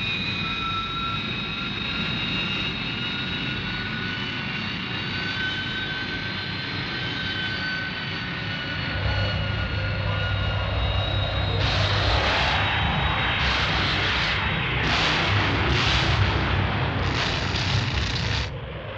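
Jet aircraft engines drone loudly and steadily in a televised attack-sweep scene, a sustained whine that swells as the planes come round, joined by bursts of rushing noise near the end.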